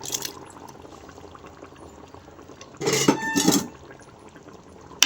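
Goat blood is poured into a simmering goat intestine curry for about a second, a brief splashing gush over a steady bubbling background.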